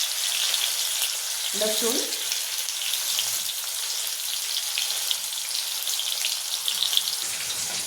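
Chopped tomatoes and garlic fry in hot oil for a Marathi mixed Bhogi vegetable dish, giving a steady, close, loud sizzle throughout, with a brief voice speaking near the start.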